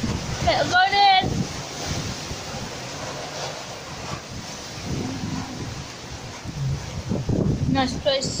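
Surf washes and churns under a pier by the ocean, a continuous rushing roar mixed with wind buffeting the microphone, while a voice speaks briefly at the start and near the end.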